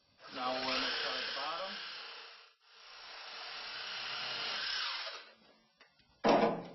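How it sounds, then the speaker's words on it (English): A Sawzall reciprocating saw cuts through pipe in two sustained, buzzing passes of a couple of seconds each, close and harsh, with a short sharp burst of cutting after a pause. "The cuts could have been made with a hacksaw, but we do have a sawzall, so we're going to use it."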